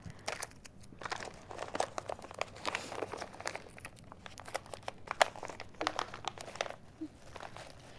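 Clear tape crinkles and tears in quick, close crackling bursts as a flower bouquet is wrapped, steady and fairly quiet throughout.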